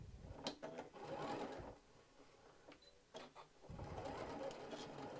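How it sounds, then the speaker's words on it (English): A domestic sewing machine runs a straight stitch a quarter inch from the fabric edge for a tissue holder, whirring up close in two bursts separated by a short pause. "So I'm just going to sew a 1/4 inch from the edge on this side."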